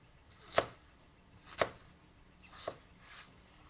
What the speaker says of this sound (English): I'm going to cut it in half, and again, a bit like the carrots, cut them into fine strips as you can